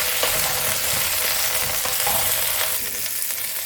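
Cauliflower florets frying in oil with turmeric and salt, a steady, close sizzle with occasional stirring scrapes throughout, no talking.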